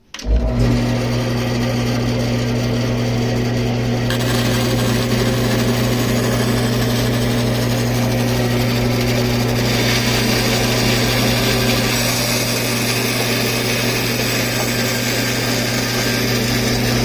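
A 14-inch Jet bandsaw fitted with a Supercut blade runs steadily while cutting, giving a loud, continuous motor hum with a whining blade tone and a brighter rasp that enters partway through, with no talking.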